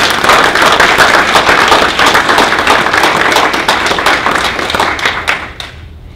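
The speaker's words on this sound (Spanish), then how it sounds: "yo quiero pedir que todos demos un aplauso a estos jóvenes, nuestros jóvenes" Audience at a scholarship event for Mexican students loudly applauding, dense and sustained clapping that tapers off and fades near the end.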